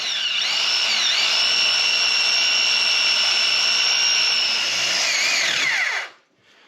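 A sawmill beam cutter slices through a log in a cold outdoor setting, a loud, steady high-pitched whine holding for about six seconds before the blade sound dies away abruptly.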